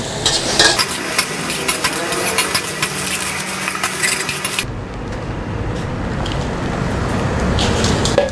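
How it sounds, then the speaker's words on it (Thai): Fish maw stir-fried in a pan, with loud continuous sizzling and a scraping spatula close by, with rapid clattering at first, then a steadier frying hiss without speech. "เริ่มได้กลิ่นของการผัดนะครับกระเพาะปลาที่ผัดนะครับ"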